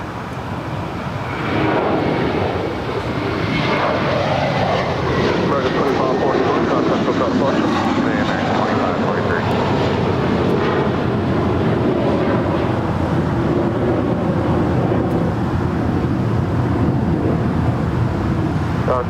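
China Airlines cargo jet, flight 5108 from Taipei, arriving at Los Angeles International Airport: a steady, loud broadband engine roar that swells in and holds for the whole stretch, with wind buffeting the microphone.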